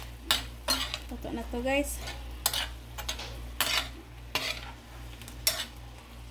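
Shrimp and bean sprouts are tossed in a pan: repeated metal utensil scrapes and clinks with a light sizzle underneath, close and fairly loud, with brief casual talk breaking in.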